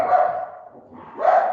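A dog gives two barks, the first longer and drawn out and the second short, both close and fairly clear against a quiet room.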